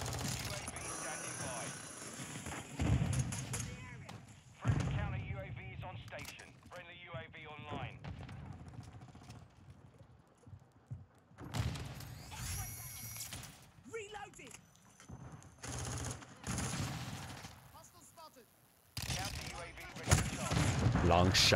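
Loud game explosions from rocket launcher fire in an online shooter match, several booming blasts scattered through the stretch, mixed with people talking over them.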